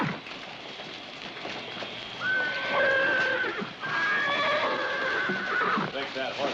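A horse whinnies loudly in a couple of drawn-out neighs, with hooves and faint background noise around it.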